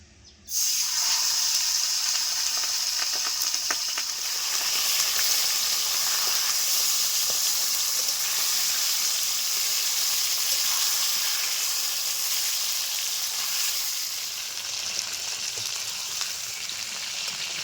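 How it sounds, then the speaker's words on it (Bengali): Chicken pieces frying in a generous amount of hot oil for a potato chicken curry, giving a loud, steady sizzle and hiss that starts abruptly and carries on unbroken throughout. "অনেকটা তেল রয়েছে এই তেলে মাংসটাও ভেজে নিচ্ছি"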